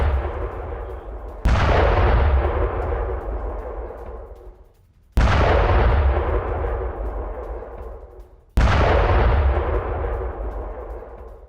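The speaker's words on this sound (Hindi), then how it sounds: "होवित्जर तोपों के माध्यम से ये हमले किए जा रहे हैं" Three heavy howitzer blasts boom out one after another during a Russian attack on Kupiansk, each a loud deep report whose rumble trails off for several seconds before the next shot.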